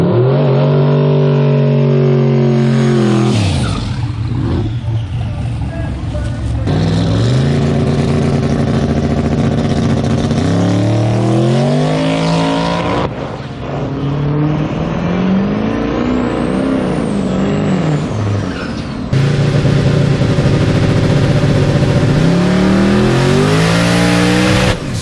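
LS-swapped turbocharged car accelerating hard down a track, engine revving up through several gear changes with rising and falling pitch, close and loud throughout with no talk.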